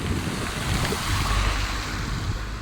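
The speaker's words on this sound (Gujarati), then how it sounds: "આ પાણી હાલે પણ આવી રહ્યું છે" Floodwater running along a waterlogged road after rain, a continuous broad rushing wash with wind buffeting the microphone, steady and fairly close, no talking.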